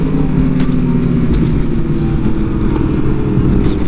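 A motorcycle rides away from a stoplight, a loud, close engine roar with steady throttle over passing traffic noise for a few seconds.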